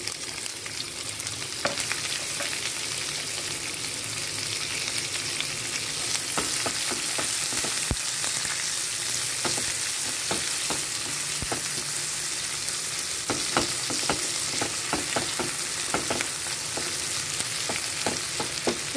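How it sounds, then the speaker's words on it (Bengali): Chopped onion frying in hot oil with cumin, bay leaf, dried red chilli and whole garam masala on low flame, a constant close sizzle broken by sharp spatula taps and scrapes against the pan. "এবার দিয়ে দেবো পেঁয়াজ কুচি"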